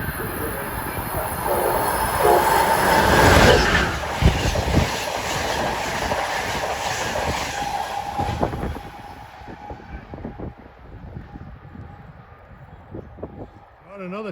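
A train rumbles past on the rails in the Boston area, loud at first with screeching wheel noise, then fading as it moves away; faint voices are present.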